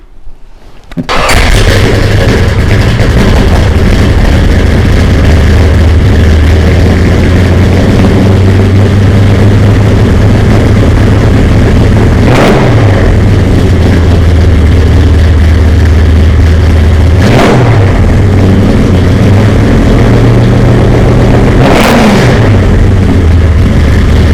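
A 572 cubic inch Chevelle SS engine cold-starts, then rumbles loud and close at a heavy idle, with three sharp revs punching up at intervals.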